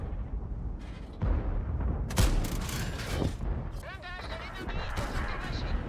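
AMX 13 105 light tank firing its autoloader cannon in World of Tanks, two heavy booming shots with sharp transients amid continuous battle noise and game effects, loud and close.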